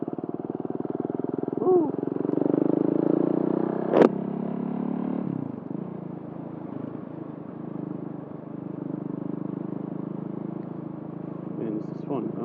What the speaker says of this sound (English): KTM Duke 690. This thing is so torquey right now.